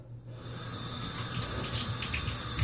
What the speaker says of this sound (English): we'll start by turning the water on slow